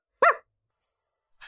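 A dog gives one sharp, close bark, followed by a brief, softer sound a moment later and then silence.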